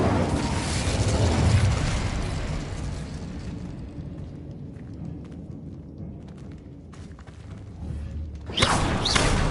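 An Incendio fire spell in Hogwarts Legacy bursts out with a loud roaring whoosh that decays into a crackling rumble, followed by another sharp burst near the end.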